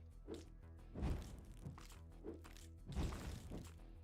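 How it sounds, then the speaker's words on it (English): Chain explosion in the video game Death Must Die: a few dull, thumping bursts spaced across the stretch, two stronger blasts standing out over a low, steady game background. "Big, nice chain explosion there."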